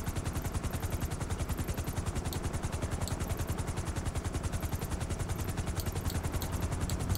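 A fast helicopter in GTA 5 Online thumps with a rapid, steady rotor chop under a constant whine, loud and unbroken throughout.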